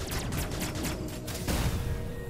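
Shooting in Metroid Dread makes a quick run of sharp, closely spaced blasts, then one heavier shot with a deeper rumbling thud. All of it sounds close and no one talks.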